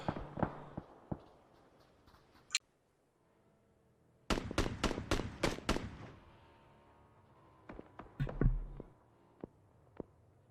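Grenades going off in the PUBG battle royale video game: a few sharp, separate explosive bangs with brief rumbling tails and quiet gaps between them, fairly close and loud.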